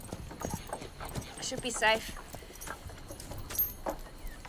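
Horse hooves clip-clop in a Wild West setting, a few uneven steps close by, under and between male speech.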